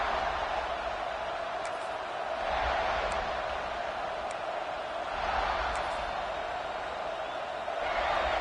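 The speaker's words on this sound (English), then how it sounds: "This crowd bringing the energy and noise early" A large football stadium crowd roars and cheers in swelling waves, distant and continuous, with a few faint sharp ticks above the noise.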